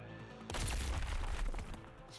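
A burst of loud explosions in a video game, a rumbling boom that erupts suddenly after a quiet moment and rolls on for over a second before fading.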